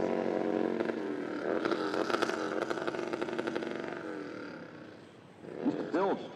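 A purple Harley-Davidson, probably a Sportster, pulls a wheel stand at a drag race at Toronto Motorsports Park, its engine roaring loud and rough for several seconds, easing off, then surging again near the end.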